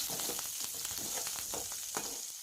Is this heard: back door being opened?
no